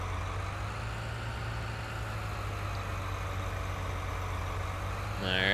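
A tractor engine idles steadily in Farming Simulator 2019, a constant low diesel drone with a mid-range hum, swelling louder as the revs rise at the very end.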